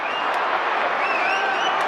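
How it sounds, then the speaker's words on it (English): Essendon Bombers supporters at Carrara during an AFL match against Gold Coast, a broad wash of cheering and clapping from a large crowd, sustained and fairly loud throughout. "you hear the Bombers crowd here at Carrara come to life when they've kicked that one"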